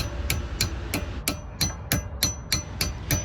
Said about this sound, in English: tapping the needle nose with a hammer to pull them the rest of the way out